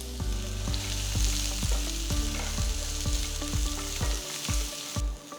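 Chopped onion, garlic and sliced green chillies sizzle steadily in a pan of hot oil, under a loud continuous fry with a rhythmic stirring pulse, close and with no talk.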